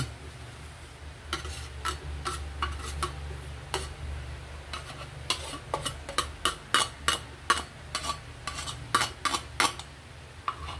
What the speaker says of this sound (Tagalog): At ilagay ko na po ring malunggay.